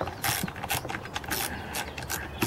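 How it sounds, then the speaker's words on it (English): Clicking, ratcheting plastic and metal snaps as the recoil starter housing is pried off a salvaged Earthquake chainsaw, a string of close, irregular clacks over a steady low rumble. "let's pry this recoil starter off of here and see what's what"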